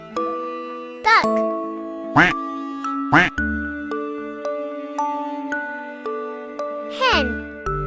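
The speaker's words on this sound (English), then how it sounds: "Duck." Duck quacks, a few loud, evenly spaced calls standing out over a bright tinkling melody that runs throughout.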